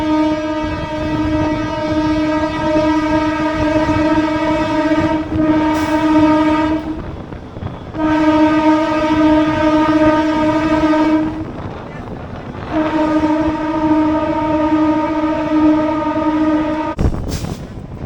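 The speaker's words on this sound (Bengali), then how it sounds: "ট্রেন আমাদের ছেড়ে দিল" A crowded Howrah-to-Puri local train rumbles steadily along the tracks while its horn blares loudly in three long sustained blasts, close and dominant over the rolling noise.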